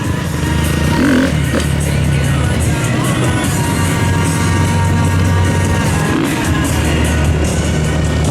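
Motorcycle doing a wheelie at a freeride stunt show at Spa Francorchamps, its engine droning steadily loud and near under a noisy crowd, with the revs rising and falling in places.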